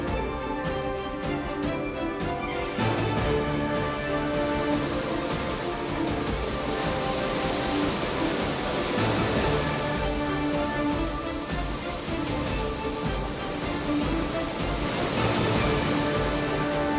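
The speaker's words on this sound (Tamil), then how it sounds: "கன்னியாகுமரி மாவட்டம் திருப்பரப்பு அருவியில் ஆர்ப்பரிக்கும் வெள்ளம்" Floodwater roars down the Thirparappu waterfall in Kanniyakumari district, a dense, steady rushing wash that stays loud and unbroken from start to finish.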